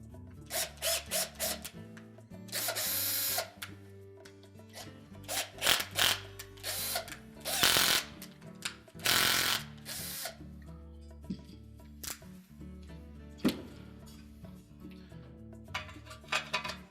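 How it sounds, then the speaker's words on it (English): Screws being driven into the plastic screw holes of a washer water inlet valve housing, a Whirlpool part, heard as close bursts of ratcheting screwdriver clicks and whirring with clattering handling sounds in between, no voices. "you may wish to run those screws into the screw holes just to cut a thread"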